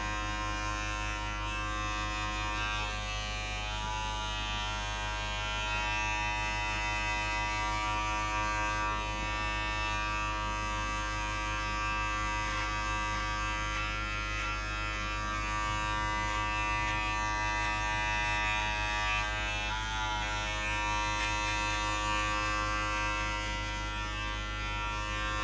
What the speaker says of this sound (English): You can actually hear it when the clipper takes on a little bit of hair.